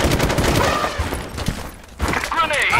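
Rapid bursts of gunfire ring out in a first-person shooter video game, dense cracking shots in two clusters separated by a brief lull, with players talking over the action.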